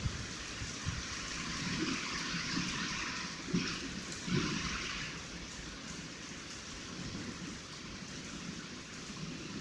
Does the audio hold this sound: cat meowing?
no